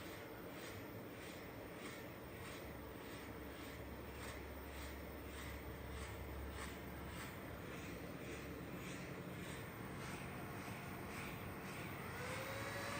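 Steady, loud whooshing roar of server GPU cooling fans with a rising, whining pitch toward the end as they spin up toward full speed; no talking.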